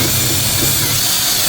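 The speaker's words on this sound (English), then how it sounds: "I'll drill the holes and put the bolts in." A power drill bores bolt holes through a board during a ductless mini-split installation, a loud, steady whirring grind up close for a second and a half.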